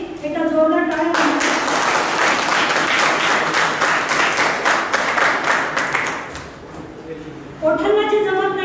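A loud burst of audience applause for the dignitaries on stage at an award ceremony in Ahmednagar, dense clapping lasting about six seconds between stretches of music.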